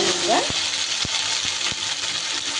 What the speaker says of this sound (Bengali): সিদ্ধ করা কচিগুলো রেখে একটু ভাজা ভাজা করে নিই